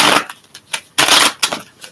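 Tarot cards being shuffled by hand give a few quick riffling, flapping bursts, close and fairly loud, with short gaps between them.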